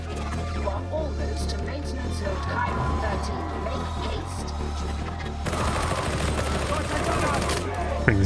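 Rapid gunfire from Warhammer 40K Darktide rattles in a dense, continuous stream of shots with a heavier burst near the end, layered over game music and effects.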